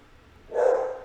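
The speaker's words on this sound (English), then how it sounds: "Sorry about my dog." A dog gives a single short bark indoors, close but moderately loud, after a brief quiet moment.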